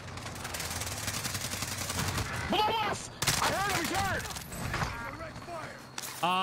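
Sniper fire in a shooter game, with sharp gunshots and bursts of fire cracking through the mix while players talk over it.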